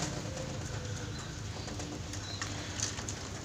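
Caged perkutut, or zebra dove, cooing in soft repeated notes, quiet and close, over a steady background hiss.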